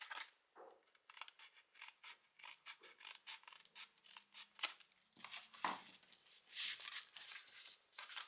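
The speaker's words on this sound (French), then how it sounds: "je vais découper de sorte. J'ai pas les bons ciseaux." Repeated crisp snips and rustles of scissors cutting paper, in quick irregular bursts close up, with no speech.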